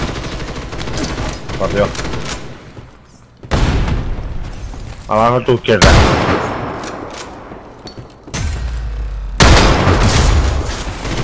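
Gunfire and explosions from the Ghost in the Shell: Stand Alone Complex video game, with heavy booming blasts and bursts of shots arriving in clusters, separated by quieter stretches, while players talk over the action.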